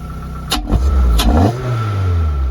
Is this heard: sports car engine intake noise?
yes